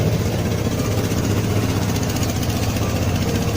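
A Vespa Matic LX 150 scooter engine idles steadily after starting, a loud, continuous low rumble with even vibration that holds without a break.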